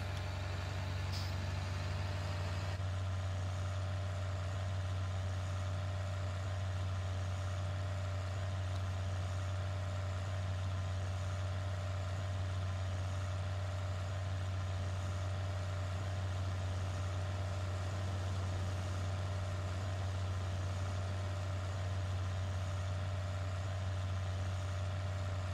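A tractor engine idles in Farming Simulator 2013 with a steady, low, droning hum that holds unchanged throughout, with no talk over it.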